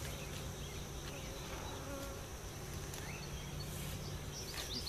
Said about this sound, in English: Sound of bees swarming you